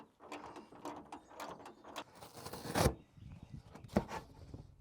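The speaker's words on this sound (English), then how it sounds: "I'll just back out these radiator support bolts real quick." Ratchet wrench backing out radiator support bolts on a homemade dump truck build, a close run of quick clicking and mechanical rattles, with a couple of louder clanks.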